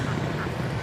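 Ducks quack on an irrigation canal in Tambun Utara, a few close, raspy calls over steady road noise.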